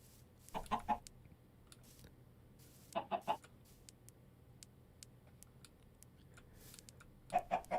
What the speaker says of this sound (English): now we're going to hear chickens and we're going to hear sheep